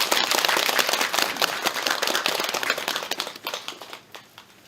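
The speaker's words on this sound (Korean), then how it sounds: "박수 한번 쳐봐" An audience at a Buddhist temple ceremony claps in a dense, crackling burst of many hands that thins and tapers off toward the end, with no talking.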